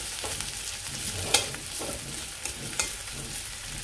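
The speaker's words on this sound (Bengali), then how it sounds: "পেঁয়াজটা একটু ভাজি করে নিই" Onions and cumin seeds frying in a pan, giving a steady soft sizzle with scattered crackles and a few brief stirring scrapes, close and moderately quiet with no talking.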